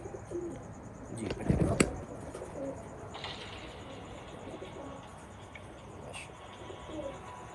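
Laal Pari pigeons cooing softly in a loft, with a brief burst of wing flapping early on and low murmuring coos continuing beneath.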